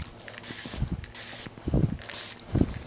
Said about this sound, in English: I have a water bottle, I'm gonna spray it with water.